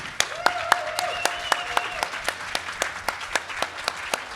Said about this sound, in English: So please, big hand of applause.